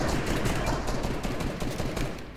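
Dense overlapping gunfire during a Fortnite squad fight, a continuous rattling barrage of shots blending into a steady noisy wash at moderate loudness.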